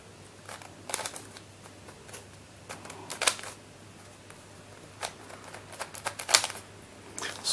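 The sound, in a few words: turning a loose 3D printed 3x5x5 speed cube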